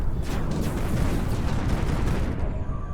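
Spacecraft exploding in the space strategy game Terra Invicta, a loud, dense, continuous rumbling blast with crackling bursts that holds for about three seconds before tailing off.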